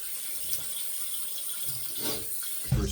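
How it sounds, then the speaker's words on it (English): Tap water runs steadily into a sink while a razor is rinsed under it, a close, continuous hiss with a small clunk near the end. "All right, and we'll rinse."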